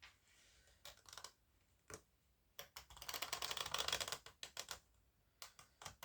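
Tarot cards are shuffled by hand in quick bursts of crisp riffling and flicking, with a longer dense flutter in the middle; close and quiet, without speech.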